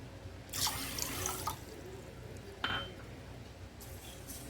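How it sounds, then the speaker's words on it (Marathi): Water pours from a cup onto green moong beans in a bowl for soaking, heard as two short splashing bursts with a brief drip between them, moderately close against quiet room tone. "मुगाच्या अंगापेक्षा थोडं वरपर्यंत पाणी आपल्याला ठेवायचं आहे कारण मूग भिजले की फुलतील म्हणून अजून अर्धा कप ओतते मी"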